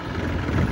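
A Massey tractor engine runs steadily in a low, continuous rumble close by, with no talk over it during the brief moment.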